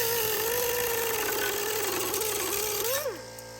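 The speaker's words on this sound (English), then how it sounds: "we're basically going to be cutting this corner off" A power tool cuts the corner off a truck's metal dust shield, a loud continuous whining grind that wavers in pitch before spinning down and stopping.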